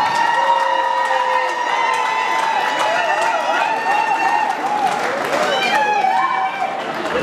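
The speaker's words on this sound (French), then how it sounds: "Tonnerre d'applaudissements." Crowd cheering and applause at a 50th birthday celebration, loud and continuous with shouts, whistles and voices mixed into the dense noise throughout.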